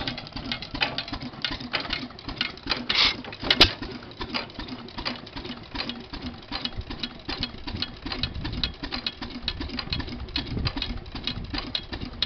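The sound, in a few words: antique engine running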